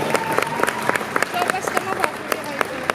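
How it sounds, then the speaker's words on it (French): Audience applause at a cosplay show parade, heard as scattered sharp claps in a loose rhythm with a faint crowd murmur underneath. "Vous pouvez complètement continuer d'applaudir"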